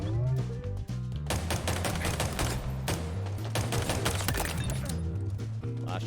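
Battle rifle bursts in the Halo Infinite multiplayer shooter, rapid repeated shots packed densely among game music and effects, loud and continuous, with faint talk mixed in.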